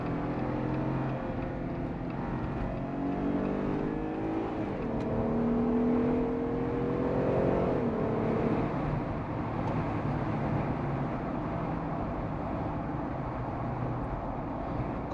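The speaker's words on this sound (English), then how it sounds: "definitely gonna hear a little bit more wind noise" Steady road and wind rush inside a 2019 Jeep Wrangler MOAB with a 3.6L V6 on the highway, a continuous broadband roar with a rising engine tone partway through and no talking.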